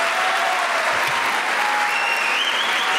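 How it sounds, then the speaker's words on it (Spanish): An improv comedy show audience bursts into applause, dense and loud clapping from a full room, steady throughout with faint whistles and crowd noise mixed in. "Y ahora aplaudan los que creen que lo que hizo Facundo estaba dentro de las normas aceptables."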